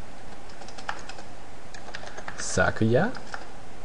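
Keys clack on a German computer keyboard in quick, light taps spread through the moment, with a voice speaking briefly over the typing near the end.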